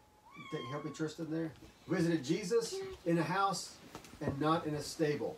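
A house cat gives a short rising meow near the start, close by, before people talk steadily over the rest.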